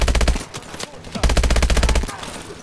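Rapid automatic fire from an IMR rifle in the Call of Duty: Advanced Warfare campaign, two close, loud bursts of evenly spaced shots separated by a short pause.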